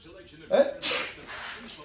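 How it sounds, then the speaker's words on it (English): A single sneeze, a short voiced intake followed by a sharp breathy burst that trails off, close and moderately loud. "Sneezing."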